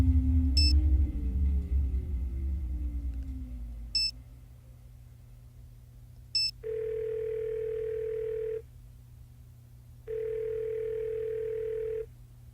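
A telephone rings inside a video game: two long, steady electronic ring tones, each about two seconds, separated by a short pause, heard clearly and alone after a few sharp beeps and a fading low hum.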